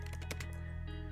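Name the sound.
typing on a computer keyboard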